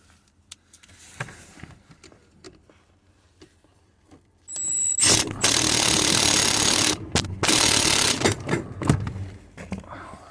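A power tool drives bolts into a strut mount plate on a VW Crafter / Mercedes Sprinter front suspension. After a brief high whine, a loud, dense, sustained rattling burst runs about four seconds with short breaks, close up.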